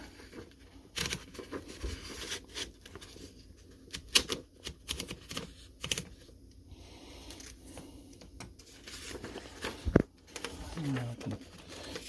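Key strikes and carriage clatter from a 104-year-old Corona 3 portable typewriter, sharp irregular clicks in quick bursts with a few heavier thunks, close and fairly loud over a quiet room.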